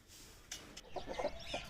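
Chickens cluck softly and irregularly nearby inside a shed, a few brief calls rising over a quiet background.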